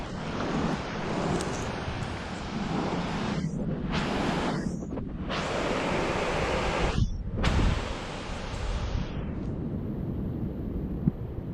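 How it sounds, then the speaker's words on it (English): A strong river current, swollen with rain, rushes continuously in a broad, even roar heard up close, with brief dips and a gust-like surge midway. "This current looks very, very strong."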